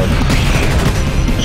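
Sentry gun fire in the sci-fi shooter Space Beast Terror Fright, a dense, continuous burst of booming shots with no gaps, loud and close throughout.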